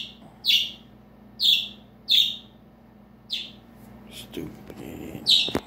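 A pet bird chirps in a series of sharp, high tweets, four or five distinct calls spaced about a second apart, fairly close and clear over a quiet room.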